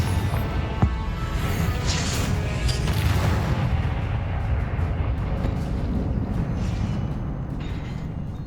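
A Confringo fire spell goes off in Hogwarts Legacy with a deep, rumbling blast that rolls on as a sustained roar with crackling bursts, fairly loud and without talk.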